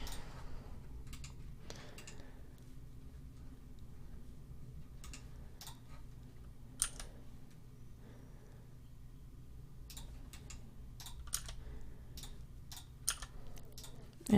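Soft, quiet mouse clicks and keyboard presses while working in Blender, a scattered run of sharp taps over a faint steady hum, close to the microphone.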